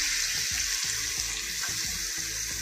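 Green chilies and a pinch of asafoetida sizzling steadily in half a spoon of hot oil in a small tempering pan, a continuous close crackle with faint spoon knocks.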